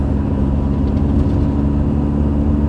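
A car fitted with a custom 2.5-inch stainless steel exhaust and resonator drones with a loud, steady low rumble, the engine holding an even, resonant tone throughout.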